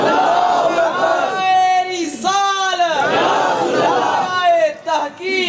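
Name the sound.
crowd shouting religious slogans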